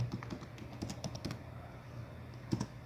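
Keys on a laptop keyboard clatter in a quick burst of soft clicks, pause, then return briefly with a few more taps, close by and fairly quiet over a low hum.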